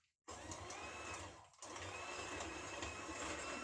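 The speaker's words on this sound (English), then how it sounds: "Take my hand mixer and mix this butter and sugar until it's nice and creamy." Hand mixer creaming butter and sugar, starting abruptly with a steady buzzing whir that dips briefly midway then resumes, close and constant.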